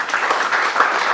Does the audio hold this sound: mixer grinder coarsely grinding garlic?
no